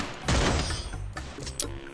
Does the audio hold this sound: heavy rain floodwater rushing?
no